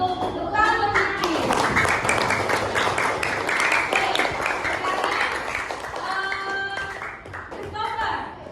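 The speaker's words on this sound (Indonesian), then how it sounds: "Tepuk tangan buat Yuki." A classroom of children claps and cheers for a classmate, steady applause filling several seconds with kids' voices and chatter mixed in, then tapering off toward the end.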